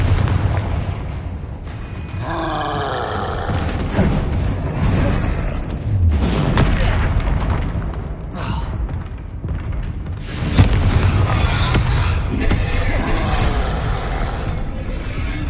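Confringo fire-spell explosions during a Hogwarts Legacy duel, mixed into a dense run of spell effects: repeated booms, whooshes and crackling bursts that overlap almost without pause, loud throughout.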